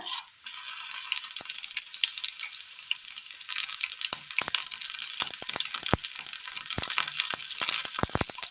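Mustard seeds sizzle and pop in hot oil in a pan for a Kerala dish, a steady high crackle broken by sharp, irregular pops that grow denser toward the end, close and alone without talk.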